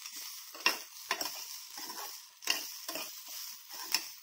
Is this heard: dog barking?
no